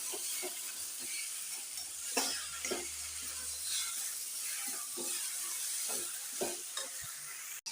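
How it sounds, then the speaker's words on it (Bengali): Spinach vegetable curry being stir-fried in a pan with a little oil. A constant sizzle and hiss runs under repeated scraping strokes of the spatula, close and moderately loud, with no voices. "এবার আবার ভালোভাবে আমি কষে নেব"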